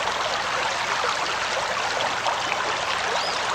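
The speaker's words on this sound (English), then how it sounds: "Let's get some water from the really loud brook." Loud, steady rush of brook water in a video game, a continuous close babble of flowing stream that fills the whole stretch alone, with no voices.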